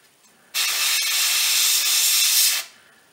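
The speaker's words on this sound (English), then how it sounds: "Now you'll have to excuse the compressor sound." Airbrush spraying paint onto a 1/35 scale armoured vehicle model, a steady loud airy hiss lasting about two seconds that starts and stops abruptly, with a faint compressor hum beneath.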